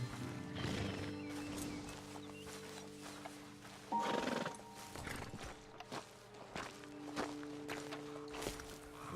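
In Red Dead Redemption 2, horses neigh and their hooves clip-clop on the ground, a steady sequence of moderately close steps with a neigh partway through.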